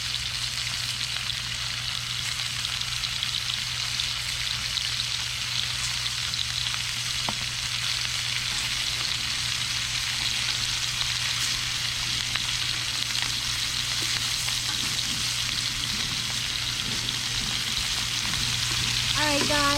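Pork tenderloin frying in olive oil over an outdoor fire gives a steady, even sizzle with a low constant hum beneath it, continuous and fairly close, with no talking.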